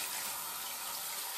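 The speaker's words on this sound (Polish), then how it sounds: "tu się wody naleje i będzie" Water running from a tap, a steady continuous rushing stream, close and constant throughout the short moment, with no talk.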